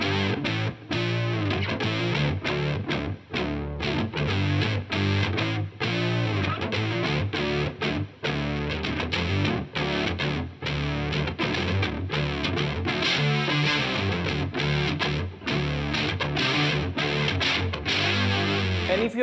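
Fuzz-distorted electric guitar run through an octave effect, such as a Boss OC2 pedal, adds notes an octave up and an octave down with no delay. Thick, steady riffing plays loud and continuous throughout.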